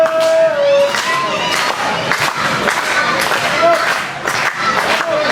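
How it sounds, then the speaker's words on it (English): A wrestling crowd at the Warriors of Wrestling "Cold Fury" show roars and cheers throughout, with shouts and scattered clapping forming a dense, loud wall of noise. "Crowd's excited for this one."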